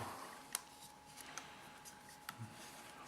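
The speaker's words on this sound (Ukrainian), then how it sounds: "Прикручується фотоапарат. Обичним болтиком" A camera is screwed onto a homemade monopod with an ordinary bolt, producing faint, close scattered clicks and small metallic ticks spaced irregularly over a quiet background.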